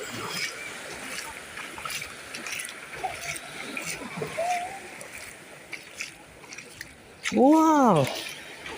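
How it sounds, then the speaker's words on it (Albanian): Splashing from a character wading through shallow water in a Wizarding World video game, a steady wet wash that continues throughout, with a short voiced sound rising near the end. "Praktika për të ecë në ujë."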